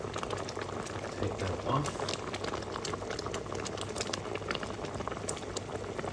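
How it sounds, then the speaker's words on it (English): A pan of gooseberry jam boils steadily with a dense bubbling and spitting hiss, close and constant, while a voice speaks briefly over it. "You can see again, you can see how the boiling is changing."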